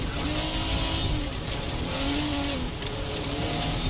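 A car engine in a racing video game drones loudly and steadily, with its revs rising and falling slightly throughout and no talk over it.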